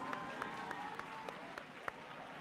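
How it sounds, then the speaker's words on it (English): Students at a maths workshop stand and applaud, producing a fairly quiet, sparse patter of claps with a few sharper individual claps over a soft crowd murmur. "Stand up, all of you, and let's give yourselves a nice round of applause."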